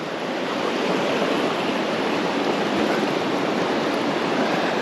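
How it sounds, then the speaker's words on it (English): River Ayr water rushes past close by, a loud, continuous broadband roar with no pauses. "noise in the river"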